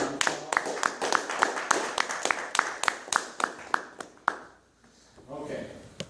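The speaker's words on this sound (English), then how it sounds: "And everybody give me a round of applause." A small group claps in a quick, fairly even rhythm of sharp individual hand claps for about four seconds, close and distinct, then stops and a voice begins speaking.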